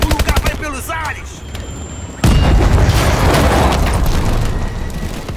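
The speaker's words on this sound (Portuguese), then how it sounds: "Explosões de pressão! O lugar vai pelos ares!" A sudden loud blast from a pressure explosion in Call of Duty: Advanced Warfare erupts after a short stretch of quieter sounds, followed by a sustained roaring, crackling rumble that slowly fades.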